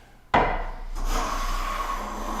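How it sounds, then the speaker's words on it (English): A hand plane takes a shaving from a board on a woodworking bench: a sharp stroke begins abruptly, then a sustained close rasping hiss of the blade that carries on until the end. "take maybe 2 or 3 shavings from this side, and then continue with these full wood shavings."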